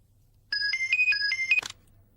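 A short melodic phone ringtone from a Telugu crime thriller plays several quick bright tonal notes over about a second, then stops abruptly against a low steady hum, with no talking.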